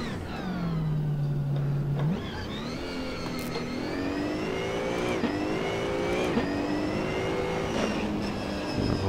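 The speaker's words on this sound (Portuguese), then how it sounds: "Vamos aquecer os pneus." Race car engine in the Assetto Corsa driving game, idling low and steady, then revving up through a series of rising gear pulls with shifts, loud and close throughout with no talking.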